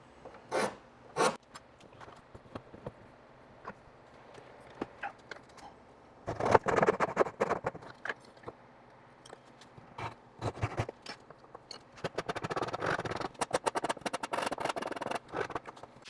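A rasp works a wooden tenon round for a pencil post bed post, giving scattered single scrapes at first, then dense bursts of rough, rhythmic rasping close up.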